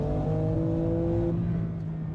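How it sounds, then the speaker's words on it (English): A Toyota Supra engine drones steadily at close range, a loud sustained tone that shifts pitch once, with no voices over it. "R34? Nah, it's a Supra."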